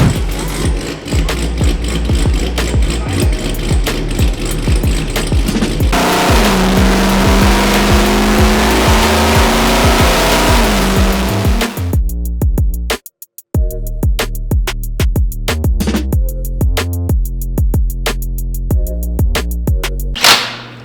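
A 1300 HP Chevrolet Corvette C7 Z06 engine running on a dyno, very loud and close, with a sustained high-revving roar, a rising pull, then a sudden cutoff followed by sharp popping and crackling bursts and revs.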